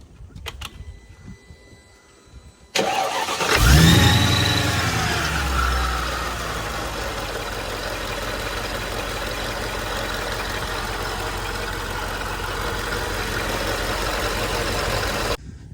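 A Mercedes M113K supercharged V8, freshly rebuilt, cranks and catches with a loud surge, then settles into a steady idle with a whirring bearing noise in the supercharger, heard close up after quiet rustling.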